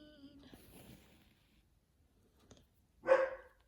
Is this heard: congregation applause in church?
no